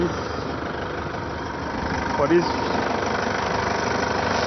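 A Toyota Hilux engine idles with a steady, mid-pitched hum and a faint vibration, and a voice speaks briefly over it partway through.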